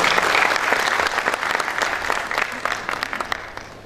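Loud audience applause at a university panel as a professor is invited to the stage, many hands clapping strongly at first, then gradually thinning and fading toward the end.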